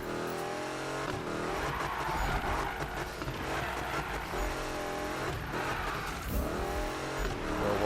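Car drifting in Need for Speed 2015, a racing video game, with a continuous loud engine roar, revving and tire squeal running steadily through the whole stretch without speech.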